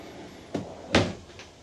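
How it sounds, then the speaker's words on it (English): A deep pull-out drawer in a 2025 East to West Alta 1900MMK travel trailer slides open with a soft thump, then shuts with a louder, firmer knock about half a second later. "these nice deep drawers that pull all the way out here"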